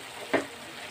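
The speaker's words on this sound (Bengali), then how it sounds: "আমার গ্রেভি ফুটতে আরম্ভ করেছে" Egg curry (egg lababdar) gravy with oil separating out, just starting to boil and sizzle in the pan: a soft steady simmering hiss broken by one brief sputtering pop, with no voices.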